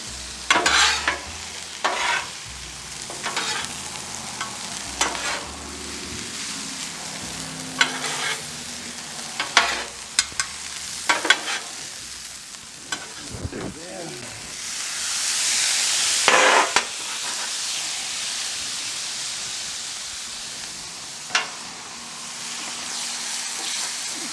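Shrimp, steak, rice and vegetables fry on a Blackstone griddle, with a continuous sizzle broken by repeated sharp scraping and tapping of a spatula against the flat-top, and a louder hissing surge partway through.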